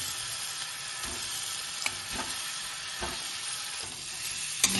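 Eggs and potatoes sizzle in hot oil with a fried spice paste of cumin and salt, a steady broad hiss close by with occasional soft scrapes and light ticks as they are stirred, no talking.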